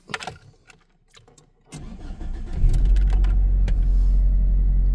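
A 1997 Mitsubishi Eclipse second-generation car cranks briefly after a few clicks and faint knocks, then fires and settles into a loud, steady low idle, recorded close with no talking.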